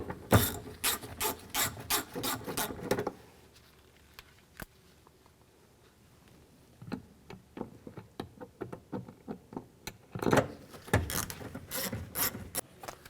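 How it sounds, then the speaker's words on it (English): A ratchet tightens bolts into the interior door panel of a 2007-2014 GMC Sierra 3500. Two bursts of quick, close clicking are separated by a quieter stretch with a few isolated taps and light handling. "Now install the bolts. And the bolts behind the handle."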